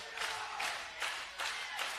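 Wrestling crowd at an intergender match cheering and roaring in steady swelling waves, a broad, loud wash of voices with several distinct surges, no speech over it.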